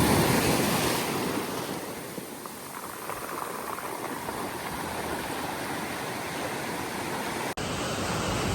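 Strong ocean waves crash and roar against rocks on the Madeira coast, a loud, continuous rushing wash that surges at the start and keeps churning throughout.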